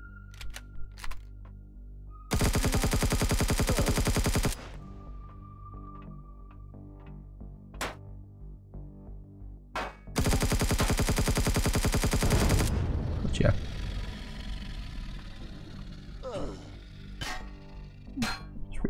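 Enemies in the video game Empyrion Galactic Survival open up with two long bursts of rapid automatic gunfire, loud and dense, separated by quieter stretches with faint game sounds.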